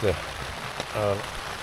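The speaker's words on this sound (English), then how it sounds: "If it was just fine rain, it wouldn't be so bad, but it's pelting down." Heavy rain pelting onto a tent on a bikepacking trip along the Scottish coast of Mull, a steady close drumming hiss under a voice speaking throughout.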